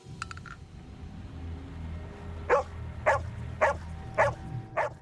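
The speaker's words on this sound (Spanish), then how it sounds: "Su perra solía ser muy tranquila, pero en ese momento se volvió loca. Empezó a ladrar y parecía estar angustiada" A normally calm dog in a forest barking in agitation: five sharp barks at regular intervals in the second half, after a few faint whimpering yips at the start, over a low background rumble.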